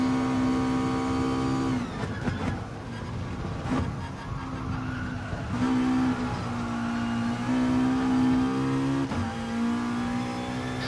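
A race car engine is held flat on the throttle, a loud, close, steady droning whine broken by several brief dips where the note resets, then climbs again, with no voices.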